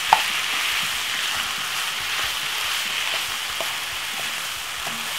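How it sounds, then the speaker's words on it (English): Minced meat browns in a pan with vegetables, garlic and thyme, giving a steady, close sizzle and fry hiss with occasional stirring scrapes and no talking. "We're gonna basically brown off the mince now with the veg and everything inside of it"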